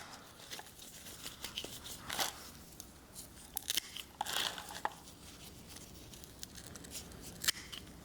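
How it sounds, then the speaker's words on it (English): Quiet, close snips of scissors cutting material into smaller pieces during plant repotting chores, irregular crisp cuts with slight crinkling in between. "I'm just gonna cut them into smaller pieces"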